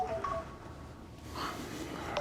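A mobile phone goes off during a lecture, its short electronic tones and beeps standing out faintly over the room's background hum.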